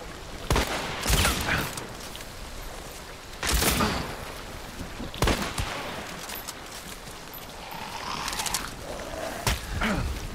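Video game shootout with bursts of gunfire from several directions, sharp broadband cracks and short volleys spaced a second or two apart, some near and loud, others more distant, with no talk.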